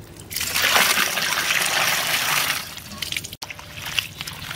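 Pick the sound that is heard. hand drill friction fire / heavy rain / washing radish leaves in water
washing radish leaves in water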